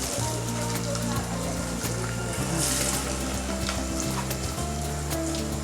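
Pathiri fry in hot coconut oil with a dense, continuous sizzle and crackle that stays loud and close, over a low steady hum.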